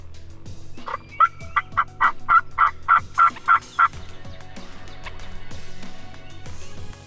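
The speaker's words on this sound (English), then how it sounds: "these Easterns, they gobble like thunder" Eastern wild turkey toms gobble loudly and close by, a rapid string of about nine rattling bursts over a low rumbling background, then fading to quieter ambient noise.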